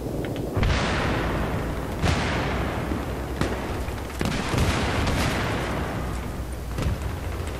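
Repeated bomb blasts and gunfire in a first-person shooter game, loud dense booms landing every second or two over continuous battle noise, with no talk.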